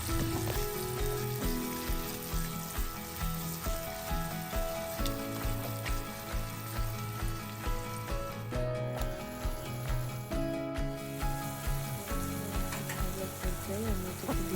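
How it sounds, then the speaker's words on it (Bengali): Onions frying lightly in a pan as the base for a pumpkin soup, a steady close sizzle that continues throughout with music playing over it. "পেঁয়াজটা হালকা করে ভেজে নিতে হবে জাস্ট একটু নরম হওয়া পর্যন্ত"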